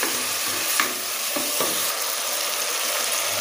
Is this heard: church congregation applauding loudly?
no